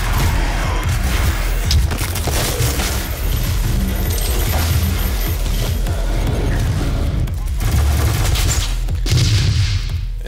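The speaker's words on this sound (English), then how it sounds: "This is the heavy assault rifle. It's got little homing missiles that sort of lock on and blow up." Heavy assault rifle in DOOM launching small homing missiles, a dense continuous barrage of rapid booming blasts and explosions that stays loud and close for the whole stretch, with no talking over it.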